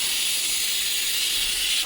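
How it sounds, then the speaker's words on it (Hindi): A pressure cooker whistle blows in a home kitchen, a loud, steady, high-pitched steam hiss lasting the whole moment with no pause and no talking. "सीटी भी बज रही है"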